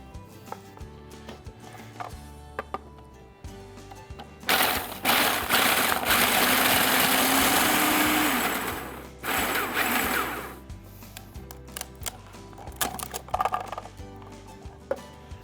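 A food processor grinding demerara sugar and coarse salt for a pie crust, a loud whirring roar of several seconds in two bursts, framed by clattering and handling noises.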